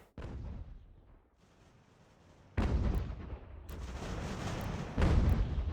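Cannon volleys in Ultimate General: American Revolution, a battle video game: a softer boom early on, then heavy, loud blasts of artillery at about 2.6, 3.7 and 5 seconds, each rolling on into sustained rumbling fire.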